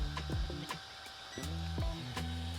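SP Space Player portable handheld turbo fan with ice cooling plate running at its lowest speed, a close, steady whining motor hum with repeated brief pitch dips and small ticks, fairly quiet, no talking.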